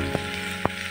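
Chopped capsicum fries with onions for egg bhurji in a steady, close sizzle, with two quick stirring clicks in a brief moment.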